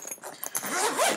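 A zipper on the front pocket of a Think Tank bag is pulled in one quick run of rasping, ripping strokes, close and fairly quiet, with no voices over it.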